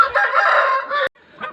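Close, loud rooster crowing in one long call that cuts off, followed by softer chicken clucking nearby.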